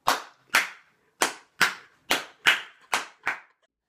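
Eight sharp, separate handclaps ring out at a slow, even pace, each with a brief decaying tail, offered as applause for guest of honor Yvonne Chan.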